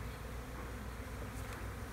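Honey bees in a nucleus colony of about 5,000 being installed: a steady, dense, close buzzing hum that continues evenly throughout with no talk.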